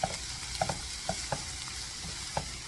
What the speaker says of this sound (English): So we've been sauteing for a few minutes.